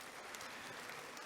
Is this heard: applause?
yes